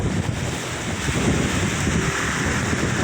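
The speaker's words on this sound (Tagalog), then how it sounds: "sumisipol ang hangin" Strong typhoon wind gusting and roaring around a banana plantation, a continuous broadband rush with buffeting against the microphone, loud and steady, no voices.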